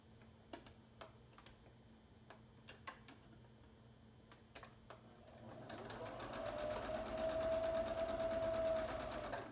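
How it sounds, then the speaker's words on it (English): A sewing machine sits idle at first, with only faint ticks and small handling clicks. It then starts up and runs a steady, close whirring stitch along a seam in quilt block fabric for the last few seconds, with no talk. "we're going to sew along that line, along that seam"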